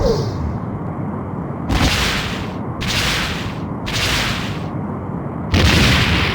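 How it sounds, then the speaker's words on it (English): Starship torpedo fire and explosions in a Star Trek: The Next Generation space combat game against a Romulan warbird: four loud, bright bursts in a regular rhythm over a steady low rumble, with no talking. "No damage. Fire. Torpedo locked. Direct hit."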